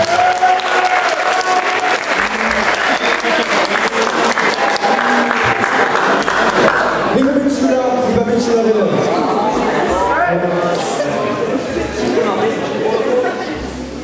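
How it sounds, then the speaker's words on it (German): Students applaud loudly and steadily at a school council election, a dense crowd of clapping with cheers and chatter mixed in, continuing for the full stretch before gradually thinning toward the end. "Einen großen Applaus bitte."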